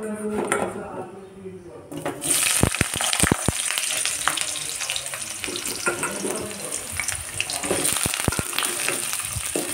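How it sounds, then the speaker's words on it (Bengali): Potatoes frying in hot oil in a wok give a loud, continuous sizzle, with sharp clatters of stirring and utensil knocks scattered through, after a quieter opening moment. "কড়াইয়ে তেল দিয়ে আলুগুলো এবার আমি ভেজে নেব।"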